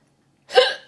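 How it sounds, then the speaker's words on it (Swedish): A single sharp hiccup from a person who has just eaten an extremely hot chili: one short burst after silence, close and clear. "Det är väldigt vanligt att man får hicka."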